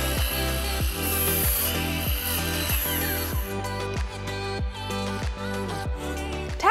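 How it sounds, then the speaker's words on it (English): A power saw cutting Evolve Stone panels with standard woodworking tools, repeated rhythmic strokes with a harsh buzzing grind, close and steady for the whole stretch. "Evolve Stone cuts with your standard woodworking tools."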